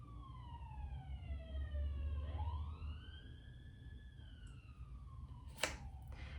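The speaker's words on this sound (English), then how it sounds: "More sirens." Emergency sirens wail in the distance, faint and sweeping as their pitch rises and falls, over a low background rumble, with a brief sharp click near the end.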